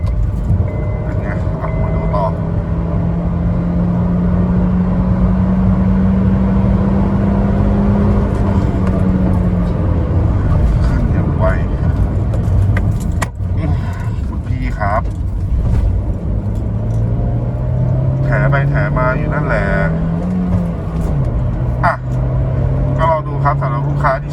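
A Honda Jazz GE with a manual gearbox, tuned to run on E20, accelerating. The engine tone climbs steadily, then drops at a gear change and climbs again, with a few brief clicks and knocks.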